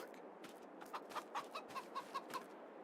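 Farming Simulator 22 chickens clucking in a steady run of about eight short, evenly spaced clucks over a soft background hiss, with no talking.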